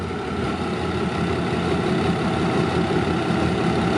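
A GEK 4044 diesel locomotive, nicknamed the haunted locomotive, running in the Bang Sue rail yard, with a steady, heavy engine drone and throbbing low rumble, close and continuous with no talk.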